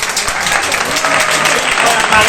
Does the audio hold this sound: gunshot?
no